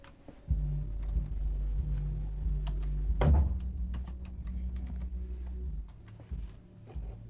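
Keys on a computer keyboard click as a table name is typed. The scattered taps sit over a loud, steady low hum, with one heavier thump partway through and no speech.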